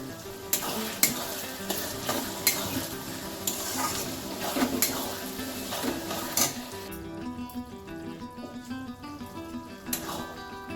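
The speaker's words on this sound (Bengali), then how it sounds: "আদা রসুন আর কাঁচা লঙ্কা বাটাটা দিয়ে একটু কষিয়ে নিয়ে" Onion and tomato sizzle in a pan with ginger, garlic and green chilli paste, a continuous frying hiss with bursts of stirring clatter, all under background music.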